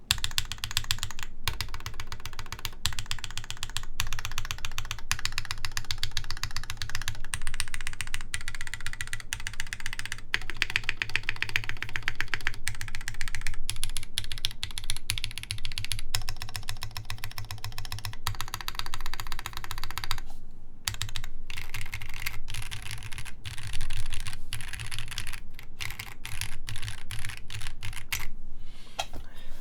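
Steady typing on a Sperno59 prototype mechanical keyboard fitted with muted switches, a dense continuous patter of soft, damped key clacks for the whole stretch, close and fairly quiet.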